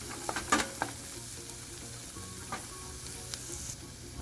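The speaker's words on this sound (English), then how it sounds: "Stir fry it for another 2 minutes in the onions." Frying sizzle from minced garlic and onions being stir-fried in a pan for aloo keema, a steady crackle with a few sharp scrapes and clicks of stirring, close by and with no talk.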